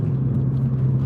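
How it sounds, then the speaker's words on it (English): A car speeds past on a road, its engine a loud, steady low rumble and whir filling the whole moment without any talk. "a car screams across past me"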